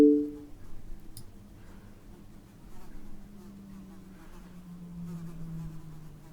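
A bee or wasp buzzes around an indoor room, a steady low drone that wavers and slides in pitch for several seconds, faint and fairly distant, with no talking over it.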